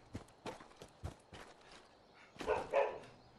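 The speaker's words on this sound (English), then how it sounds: "I apologize for the dog." A dog barks in a room, giving several sharp, fairly faint barks in an uneven rhythm, followed by a louder, longer burst of barking near the end.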